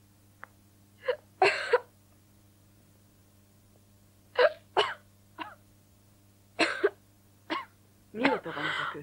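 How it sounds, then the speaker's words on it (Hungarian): Repeated coughing from an unwell person in a quiet indoor scene of a thriller film, about eight short harsh bursts spread unevenly, some clustered in pairs, fairly close and moderately loud over a steady low hum. "Mióta van ez a köhögés?"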